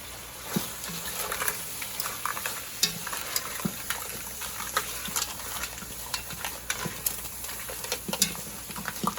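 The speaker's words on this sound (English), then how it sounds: "it don't take long for your shrimp to do a stizzle" Shrimp sizzling in a hot pan for a seafood dinner: a steady, crackling fry with scattered sharp pops and the clink of stirring throughout, no one speaking.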